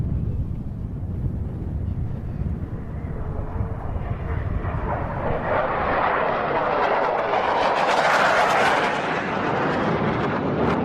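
Display aircraft at the Royal International Air Tattoo 2022 rolling down the crowd line, a broad jet roar swelling steadily louder and brighter as it draws closer, continuous with no voices.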